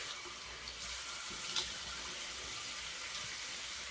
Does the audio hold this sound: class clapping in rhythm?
no